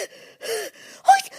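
A voice acting out a small mouse panting after a run for a children's story: three or four quick, breathy gasps in a short rhythmic burst, close and fairly soft.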